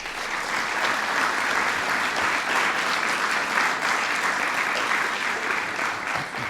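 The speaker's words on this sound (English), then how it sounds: "Please give them a big round of applause." Sustained, dense applause from a large crowd at a National Mentoring Month celebration, steady and loud throughout with no pauses.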